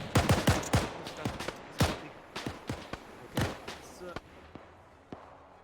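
Gunfire in a tactical war video game: a volley of sharp, loud shots in quick bursts, then spaced single reports tapering off, with distant pops near the end.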